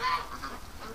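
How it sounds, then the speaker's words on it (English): Ducks in a rainy farm pen give several nasal honking quacks, loudest at the start and then recurring in short bursts at close range. "Look at these ducks"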